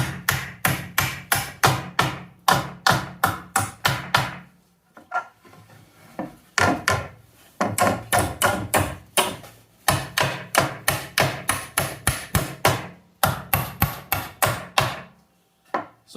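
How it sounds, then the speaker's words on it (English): Rapid, sharp hammer blows knocking nails out of pallet wood come in steady runs, loud and close, with brief pauses and some prying scrapes between the bursts. "when you go to hammer nails out like this, do the ones closest to you first"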